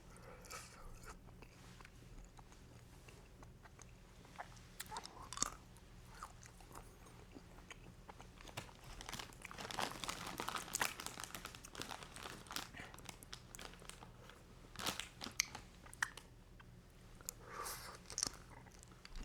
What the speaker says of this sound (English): We're just munching candy corns,